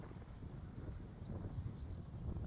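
Wind gusting across an open stretch of the Portuguese coast, a steady low rumble buffeting the microphone, moderately loud and continuous with no voices.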